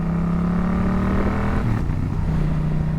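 A 2024 Yamaha Tracer 700 A2 motorcycle engine rumbles steadily close by, then its pitch drops sharply as the rider downshifts and the revs settle at a lower, steady drone.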